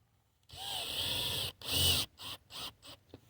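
A power drill backs zinc-coated screws out of scrap material, giving a close, whining burst followed by several shorter spins and stops.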